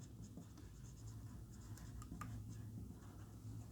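Chalk or marker scratching across a board during an engineering lecture on impulse steam turbine blade efficiency, a faint continuous scraping with small taps under a low room hum, no talking.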